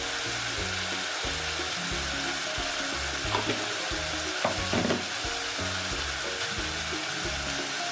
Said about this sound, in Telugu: వీటిని బాగా పచ్చివాసన పోయే వరకు వేయించుకుని